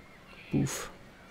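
A pig is launched from a cannon in Lego City Undercover: a short low thump followed by a brief airy burst, alone over a quiet background.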